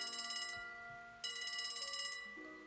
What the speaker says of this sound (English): Hey, we get a phone call.